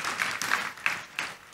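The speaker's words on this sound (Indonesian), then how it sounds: "Tepuk tangan buat Tuhan kita Yesus." Congregation at an Indonesian church service clapping in praise to Jesus, a brief burst of hand claps with a few sharper accents over a soft roomy wash, fairly quiet and without talk.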